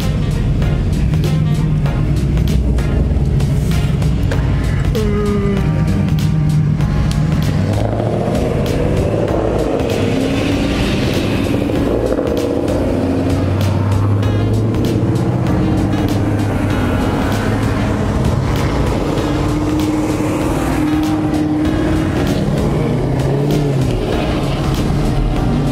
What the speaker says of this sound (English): Chevy SS versus a Camaro SS for a lot of money.